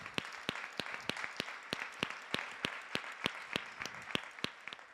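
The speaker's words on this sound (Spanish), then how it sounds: "Un aplauso para ellos, por favor." An audience at a debate applauds steadily, a dense rhythmic patter of claps with distinct individual hand strikes, moderately distant and fairly faint.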